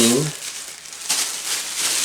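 Plastic bags crinkle and rustle as they are handled, a steady close crackling that runs for about two seconds after a brief voice at the start.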